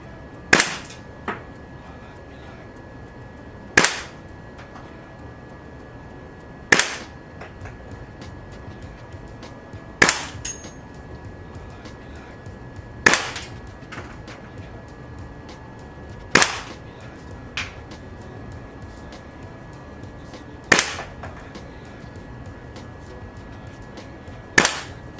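Single shots from a WE M4 airsoft rifle: sharp, loud cracks about every three seconds, each with a brief echo, close by over a quiet room hum with no talk.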